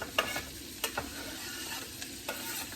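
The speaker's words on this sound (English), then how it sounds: "So I'm going to go ahead and add half of this onion to my butter and all of my mushrooms" Onion and mushrooms sauté in melted butter, giving a dense, continuous sizzle close to the mic, with a few light spoon taps and stirring clicks scattered through and no voices.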